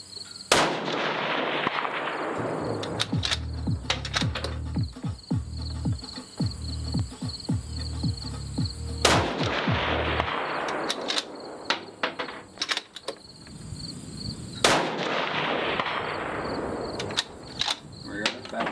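Three sharp, loud rifle shots from a Tikka Ultralight crack out several seconds apart at an outdoor range, each followed by a short echo, with wind noise and small handling clicks between them.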